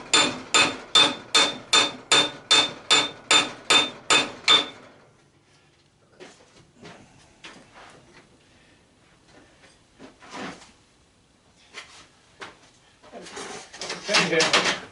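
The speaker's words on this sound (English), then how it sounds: "It's kind of hard to get a good whack at this because of the angle." A hammer whacks a large electric motor being scrapped for copper and iron: about a dozen loud, evenly spaced metallic blows, then scattered quieter clanks and knocks.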